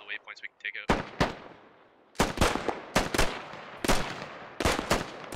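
Gunfire in the military shooter Squad during a one-life operation: several loud, sharp bursts of rounds in quick clusters, near and echoing, after a brief quiet stretch with faint voices.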